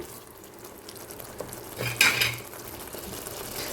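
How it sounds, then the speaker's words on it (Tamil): Egg masala gravy stirred in a hot pan on full flame, a low sizzle with scraping spoon strokes and a louder clatter of metal against the pan near the middle, close by and without talk. "தண்ணி ஊற்றிட்டு இதை கிண்டுற நேரம் மட்டும் ஃபுல் ஸ்பீட் வச்சுக்கோங்க"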